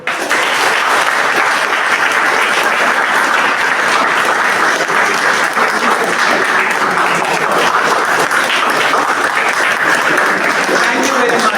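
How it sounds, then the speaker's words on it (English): An audience after a talk on interview skills gives loud, sustained applause, a dense, even wash of clapping that holds steady throughout. "A big round of applause for me"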